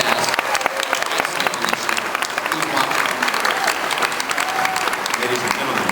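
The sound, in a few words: audience applause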